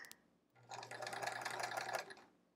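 A sewing machine runs in one steady burst of rapid stitching through a quilt block, close and fairly quiet, starting after a brief click and stopping about two seconds later.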